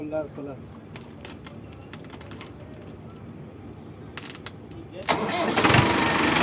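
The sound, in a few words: tractor engine starting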